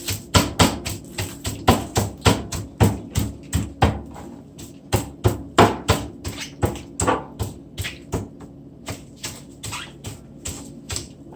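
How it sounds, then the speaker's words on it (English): Scallion beaten and crushed on a kitchen surface while preparing authentic Jamaican curried goat, giving a steady run of sharp, close knocks about three per second, loud and unaccompanied, with a short pause near the middle. "I'm just gonna beat my scallion."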